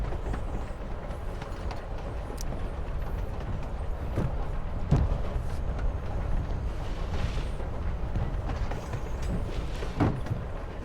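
A train rolls along the rails in the video game Life is Strange, a steady low rumble with faint rhythmic clacks and occasional knocks, continuous throughout.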